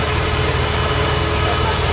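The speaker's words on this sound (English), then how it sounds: "There is the engine." A small zoo train's engine idles with a steady, close, low rumble that holds evenly from start to finish.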